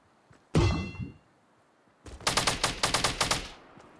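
Gunfire in Fortnite: a loud single burst near the start, then after a pause a rapid string of about a dozen sharp shots in quick automatic rhythm, close and loud with no talk.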